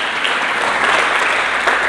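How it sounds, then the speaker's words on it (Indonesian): A church congregation applauds together, a dense, even wash of clapping sustained loudly through the whole moment with no voices over it. "Berikan tepuk tangan bagi Yesus Kristus."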